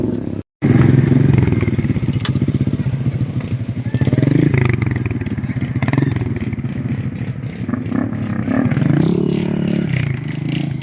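An off-road motorcycle engine rumbles loudly and steadily, rising and falling with revs as it rides through mud, with scraping and clattering along the way.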